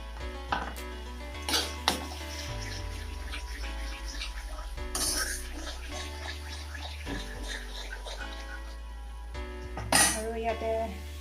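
A metal spoon clinks and scrapes against a pan as green peas go into cooked masala for matar paneer, with several sharp knocks and a low steady hum underneath.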